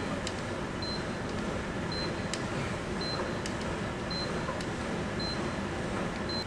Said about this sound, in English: I'm going to try to hold to that beep that I can hear